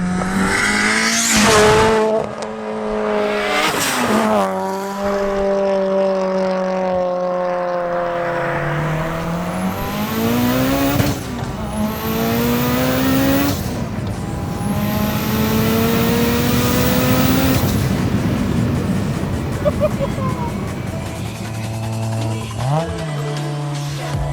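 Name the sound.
800 wheel horsepower Mitsubishi Evo 8 accelerating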